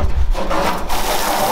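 Scraper dragged hard across a truck bed to lift old loosened paint, with steady close rasping and grinding strokes that run continuously and loudly throughout.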